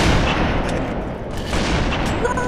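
Halo 3 gunfire on the Construct map, dense rapid automatic shots and booms forming a loud continuous barrage throughout.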